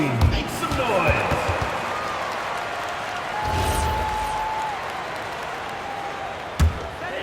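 Arena crowd cheering and clapping for the dance team during a timeout in an NBA 2K26 WNBA basketball game, a broad wash of noise under an announcer's voice, with a sharp thump near the end.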